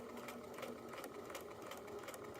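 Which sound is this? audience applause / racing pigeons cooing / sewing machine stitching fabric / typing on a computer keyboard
sewing machine stitching fabric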